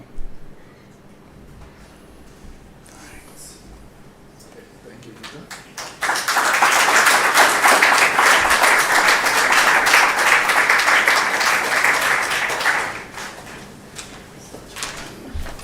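After a quiet stretch with a few stray claps, a conference audience at a research plenary session bursts into sustained applause around the midpoint, holding steady for several seconds before fading back to murmuring room noise.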